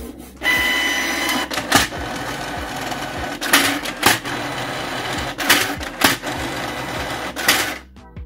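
A printer whirs and clatters as paper feeds through, with repeated mechanical bursts and rhythmic printing passes, close and fairly loud.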